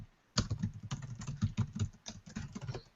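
Rapid typing on a computer keyboard, a quick irregular run of close, crisp key clicks after a brief pause, with no voice over it.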